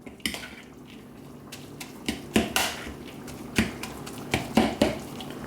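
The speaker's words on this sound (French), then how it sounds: "Je remue tout ça." A utensil stirs grated cheese and milk in a bowl, making close, irregular scrapes and clinks against the bowl with soft wet squishing between them.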